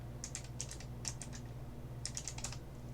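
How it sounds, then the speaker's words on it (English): Fingers tapping numbers on calculator keys in three quick clusters of small clicks, close and quiet over a steady electrical hum, with no talking. "we're just going to type this in a calculator now"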